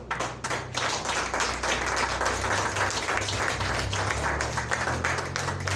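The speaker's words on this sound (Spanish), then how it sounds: "¿Cuántos le pueden dar un aplauso al Señor?" A church congregation at an evening general meeting claps in sustained, dense applause, loud and continuous throughout with no talk over it.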